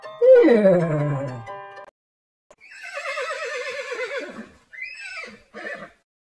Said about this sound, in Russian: Лошадка говорит